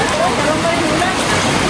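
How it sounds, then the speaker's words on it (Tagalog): Heavy rain comes down in Davao as a steady close hiss and patter of water on surfaces, constant throughout, with faint speech-like murmurs under the downpour. "ayan, lakas ng ulan"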